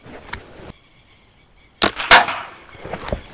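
Shots from a PCP Tiger air rifle firing 42-grain double-skirt pellets at a metal target plate 52 metres away: a faint early crack, then a sharp near report with a ringing impact tail, followed by softer clicks.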